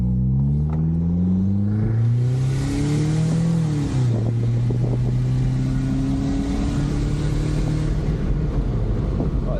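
A turbocharged Nissan Frontier pickup does a quick pull in drive, its engine note rising through the revs, dipping at a shift, then climbing again as a loud, close, sustained drone.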